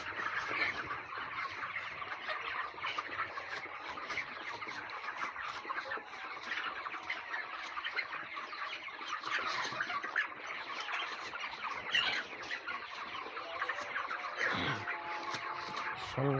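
Chickens in a poultry shed cluck and squawk in a busy, overlapping chorus. The flock keeps up steady chatter at moderate volume throughout, with a few louder calls standing out.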